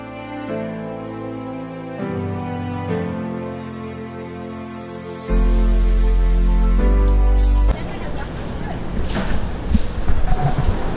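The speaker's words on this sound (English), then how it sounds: "the commuter train has arrived" A commuter train in Langkawi, Malaysia pulls in with a sustained low rumble and a loud, steady hum that swells for a few seconds, then gives way to clattering, rustling platform noise and faint voices.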